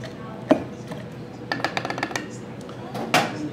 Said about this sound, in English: Just gonna muddle all these ingredients together. I wanna crush the cucumber, get all those juices out of there.